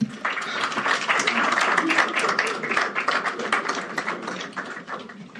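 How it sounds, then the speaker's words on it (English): An audience at a UN General Assembly sideline event in Accra claps steadily, a dense patter of applause that swells then gradually thins, with some voices mixed in. "One more round of applause."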